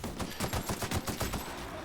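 Weapon fire in the role-playing shooter The Outer Worlds, a quick series of muffled rhythmic shots, about eight evenly spaced reports in under two seconds at moderate, slightly distant loudness.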